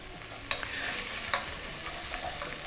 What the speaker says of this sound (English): stir that all up, and we'll let that kind of saute for about 3 or 4 minutes till things become soft